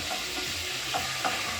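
Spatula stirring okra in a pot for Fante kenkey, soft scraping strokes and a few brief clatters against the pot over a faint frying hiss, close and fairly quiet with no talk.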